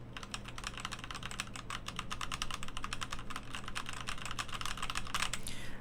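Steady, rapid typing on a computer keyboard, picked up by a CKMOVA SXM3 condenser microphone about 30 cm away during a microphone test; dense clicking keystrokes continue throughout over a low background hum, with no talking.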